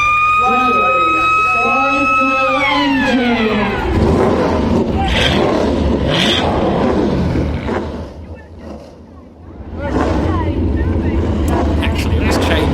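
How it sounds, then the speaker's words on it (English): NASCAR Euro Series race cars fire up together at the NASCAR GP Italy 2025 round after an amplified voice. Their engines swell into a loud, sustained roar that briefly dips and then builds again. "Start, driver, start your engine."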